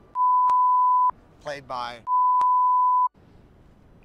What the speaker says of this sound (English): You gotta beep that.